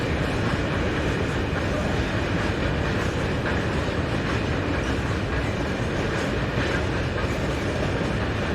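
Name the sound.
Italian Railways class 652 electric locomotive train departing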